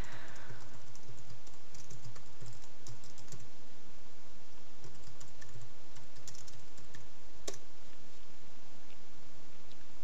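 Steady typing on a computer keyboard while entering login details, a continuous run of light, close clicks over a faint background hum, with no voices.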